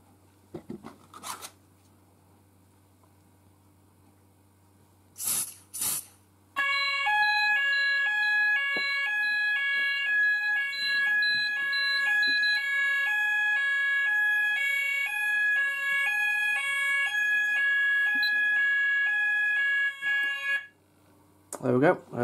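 Apollo XP95 Discovery fire alarm sounder goes off during a system test, a loud alternating two-tone electronic wail holding steady for about fourteen seconds after brief handling noises, then cutting off abruptly.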